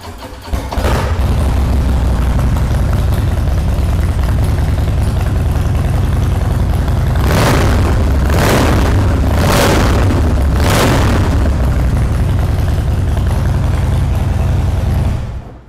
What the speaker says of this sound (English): Let's fire it up and have a listen.